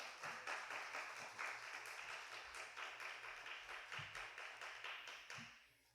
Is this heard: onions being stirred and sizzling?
no